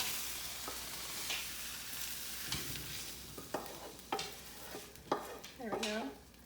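Quiche egg mixture poured into a hot pan and cooking, a soft sizzle under a series of sharper clinks and scrapes that grow more frequent toward the end.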